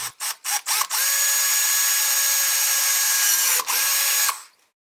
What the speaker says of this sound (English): I am going to drill a hole in it